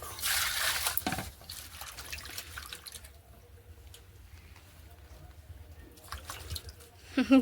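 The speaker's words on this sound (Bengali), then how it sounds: "দেখুন বিপ্লব বাবুর মাছ ধোয়া" Fish being washed with hot water poured from a saucepan: a burst of splashing and running water at first, then quieter drips and trickles, with faint background voices.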